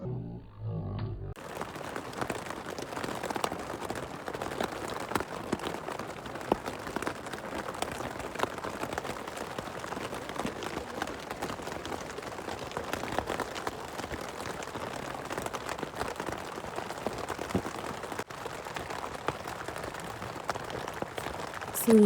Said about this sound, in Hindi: इस टाइम बहुत तेज़ बारिश हो रही है जिसकी आवाज़ आ रही है कैंप पे।